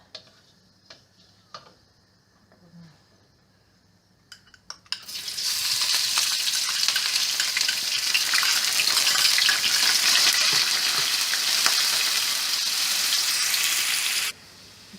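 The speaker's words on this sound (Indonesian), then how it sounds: "Then we are going to saute this red onion and garlic." Red onion and garlic hit hot cooking oil in a pan and begin to sauté: a few light clicks and taps, then a sudden loud, steady sizzle that carries on for about ten seconds before cutting off.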